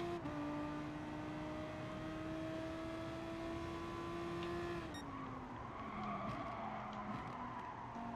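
A Ferrari race car in GT Sport holds a steady engine tone, then its tires squeal and skid as it slides, with shifting engine pitch underneath.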